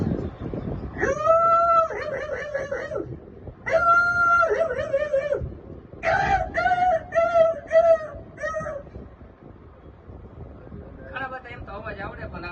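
A person mimics a dog with drawn-out howling and whining sounds in several bursts, loud and close, separated by short pauses.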